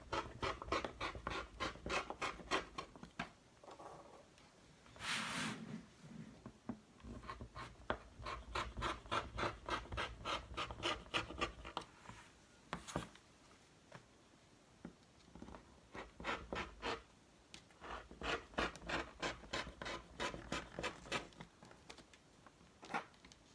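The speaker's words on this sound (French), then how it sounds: "Et j'utilise mon cutter rotatif." A rotary cutter rolls around fabric pieces cut for a sewn face mask, making quiet, dry scratching strokes in quick repeated runs with short pauses between them and no voices.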